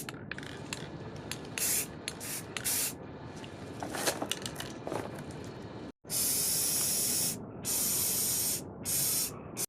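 Aerosol spray paint applied as a second coat from about two feet away during car repair work, a few short hissing bursts followed by longer loud, sustained sprays with brief pauses between them.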